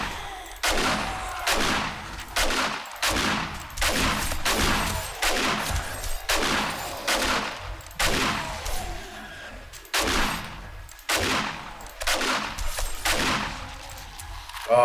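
Loud shotgun blasts boom at a steady rhythm in 7 Days to Die, roughly a dozen heavy shots spaced about a second apart, close and dominant with brief pauses between.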